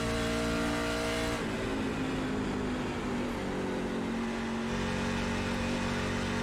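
Race truck engine screaming at full throttle in an iRacing Truck Series race at Nashville Superspeedway, loud and continuous, pitch climbing then holding steady, with other trucks roaring close alongside.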